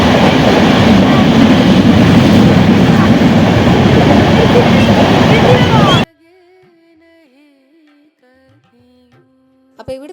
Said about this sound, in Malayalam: അപ്പോൾ കാത്തിരുന്നത് ആ ഒരു ട്രെയിൻ ഇതിലേ വരുന്നുണ്ട്.